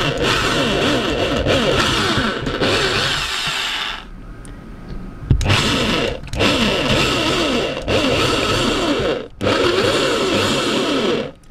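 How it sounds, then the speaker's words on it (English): An electric drill boring holes into model railway scenery, loud whining bursts of drilling that run several seconds each, broken by short pauses and a sharp knock partway through. "let's get the drill and drill these 4 holes that I've marked out"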